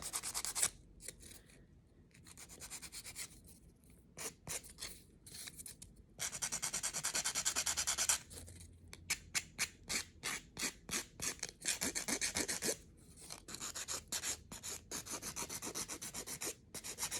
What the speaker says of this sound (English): I'm just gonna file a little bit.